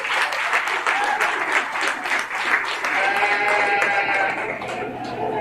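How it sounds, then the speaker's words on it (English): Audience claps for young exhibitors leaving the ring at a county sheep show, a full sustained round of applause that carries on evenly, with a voice faintly talking over the later part. "Let's give them another round of applause as they leave."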